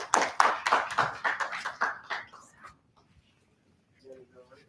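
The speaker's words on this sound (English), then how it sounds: "a big clap again for them." Audience clapping at a forum, a short burst of loud, close claps that thins out and stops within a few seconds, followed by quiet and then a voice speaking.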